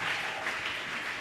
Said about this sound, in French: Que les acclamations soient ton témoignage au nom de Jésus.